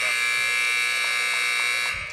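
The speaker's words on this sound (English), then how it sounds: "Just letting that buzzer noise go out." A loud, steady electronic buzzer sounds during a timeout at a volleyball tournament, a harsh continuous drone lasting about two seconds before it cuts off. Faint arena noise sits underneath.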